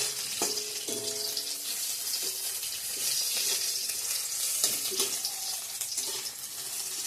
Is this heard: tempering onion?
yes